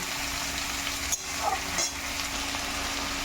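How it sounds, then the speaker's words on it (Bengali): Onions fry in a pan of hot oil for chicken pakoras with a steady, close sizzle and a couple of brief stirring scrapes, no talking. "পেঁয়াজটা দেখো অনেকটা ভাজা হয়ে গেছে"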